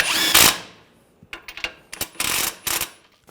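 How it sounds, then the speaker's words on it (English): A 17mm socket tightens the outer tie rod nut on a 2011-2017 Nissan Juke, with a sharp burst of tool noise followed by short metallic clicks and rattles, close and loud. "Use a 17mm socket. And we'll tighten this down."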